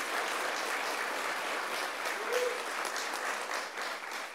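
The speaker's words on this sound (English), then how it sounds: "let's give her a big round of applause for her strength and her courage" An audience at a New York University announcement by Governor Cuomo breaks into steady, sustained applause, dense clapping filling a large room without letup.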